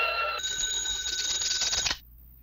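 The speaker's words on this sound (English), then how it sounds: "Where's the phone? At your house, Stanley." A telephone bell rings in one sustained, bright metallic trill of about one and a half seconds, loud and close, then cuts off sharply to near silence, with no talk.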